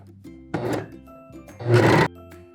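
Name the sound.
serger sewing the shoulder seams of a dress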